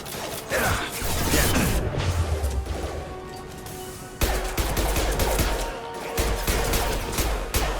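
Gunfire in the video game Mass Effect 2, bursts of rapid shots mixed with mechanical clanks and impacts, loud and busy, with a brief drop before a fresh burst starts midway.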